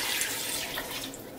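Water pours steadily into a cooking pot for white beans with meat, a close, continuous splashing stream with no talking.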